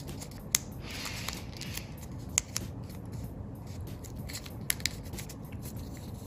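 A paper corner being folded and pulled up while shaping an origami goose, heard up close as a faint papery rustle broken by several sharp, isolated crease clicks, with no speech.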